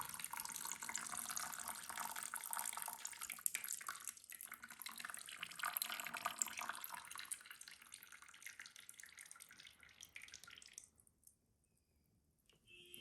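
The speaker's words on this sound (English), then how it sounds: "the water can just come out easy. And just like that, almost a whole PC is drained." Coolant water draining out of a water-cooled PC, a continuous faint trickling and splashing flow that runs for about ten seconds, then thins to quieter drips.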